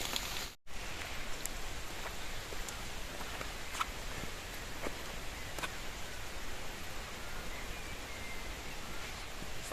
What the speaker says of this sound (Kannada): ಈ ಜಿಡಿ ಮಳೆ ಬರ್ತಾ ಇದೆ ಸಣ್ಣಗೆ ಒಂದೇ ಲೆವೆಲಲ್ಲಿ.